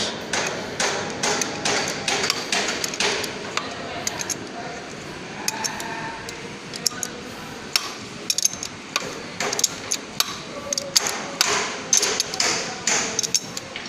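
Bolts on a mechanical pipe coupling being tightened with a ratchet wrench, producing repeated sharp metallic clicks in quick bursts, close and fairly loud, with brief pauses between runs.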